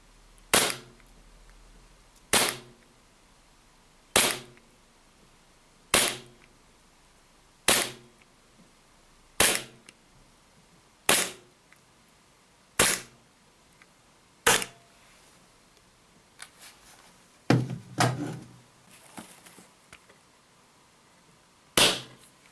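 Airsoft Glock pistol fired through a chronograph, about ten sharp snapping shots spaced evenly roughly two seconds apart, close and crisp, followed by a couple of quicker, messier shots with some rattle at the end.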